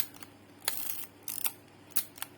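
Film camera shutter being cocked, which also turns the film rewind knob as the film advances; three short, close, dry mechanical clicks and ratchets in an otherwise quiet room.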